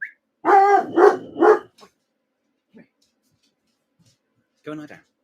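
A house dog barks indoors, three loud close barks in a quick burst, then a faint yip or two in near silence, and one more softer bark at the end.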